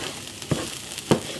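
Beef broth hits a pan of flour-thickened drippings to make gravy, giving a steady close sizzle and bubbling with a couple of short louder splashes or stirs and no voices.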